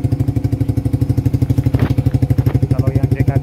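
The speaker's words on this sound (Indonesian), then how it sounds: "ini cek sound menggunakan knalpot Satria" Suzuki GSX R150 motorcycle fitted with a locally made Satria FU CKD exhaust, engine running close up with a steady fast pulsing throb and a couple of brief throttle blips.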